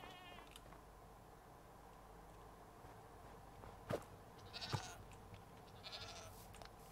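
A goat in Minecraft gives a few faint, short bleats against a soft, steady ambient background, each call brief and somewhat distant.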